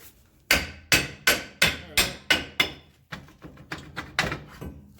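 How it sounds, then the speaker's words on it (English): Repeated heavy metallic hammer blows ring out on the brake drum of a Dodge Ram ProMaster 1500, about a dozen strikes in a steady rhythm, loud and close, with no talking. "Gonna have to get the hammer"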